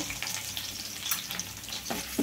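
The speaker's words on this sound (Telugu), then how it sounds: "కొంచెం కలర్ చేంజ్ అవ్వాలి, తాలింపు వేగాలండి." Garlic and dried red chillies sizzle in hot oil for a tempering, a loud, dense crackle close by with occasional sharper pops and stirring scrapes, no voices.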